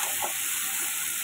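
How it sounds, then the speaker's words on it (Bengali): Potatoes and cauliflower sauté in a pan for an egg curry, a steady close sizzle with faint stirring scrapes and no voices. "আলু আর ফুলকপিটা দিয়ে দেবো, ভালোভাবে কষিয়ে সুন্দরভাবে কষাবো"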